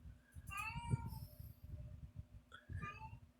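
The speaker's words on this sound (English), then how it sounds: "please excuse my cat meowing in the background" A house cat meows a few times in the background, drawn-out, wavering cries with a short pause between them, fairly faint and heard alone.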